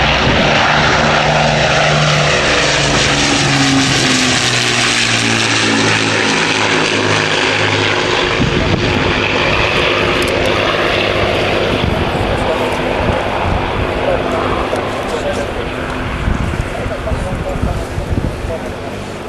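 An Avro Lancaster bomber flying a run, break and landing approach at a Battle of Britain weekend event roars loudly with droning propeller engines that shift in pitch as it passes and banks away, with voices heard over it.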